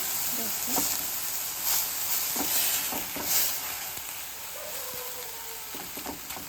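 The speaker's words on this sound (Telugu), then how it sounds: "ఇది సన్నటి మంట మీద ఒక రెండు నిమిషాలు దోసకాయని మగ్గనివ్వాలండి ఆయిల్ ఏం అవసరం లేదు" Cucumber pieces cook dry in a pan over a low flame without oil, giving a soft, steady sizzle broken by a few light stirring scrapes and clicks, close by and with no speech.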